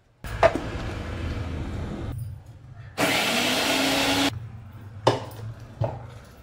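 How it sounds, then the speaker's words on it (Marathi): A kitchen mixer grinder whirs loudly for about a second and a half while grinding garlic, cumin and green chilies, framed by short bursts and clattering of the jar, with a steady background hum. "तर लसूण, जिरं, मिरची ही बारीक करून घ्यायची।"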